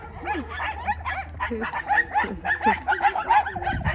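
A pack of small dogs yips and barks in rapid, overlapping bursts on a walk in rural Murcia, Spain, fairly close, with voices talking over the din.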